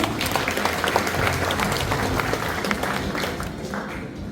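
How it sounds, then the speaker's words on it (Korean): An audience claps steadily at a ceremony for a newspaper's 80th-anniversary photo exhibition in Daegu, a dense, even round of applause from a seated crowd lasting throughout. "여러분 박수 보내주십시오"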